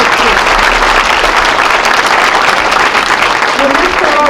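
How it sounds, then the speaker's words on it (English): A loud, dense round of applause from an audience honoring a speaker who has just left the podium, steady and sustained throughout. "Can we give her another round of applause?"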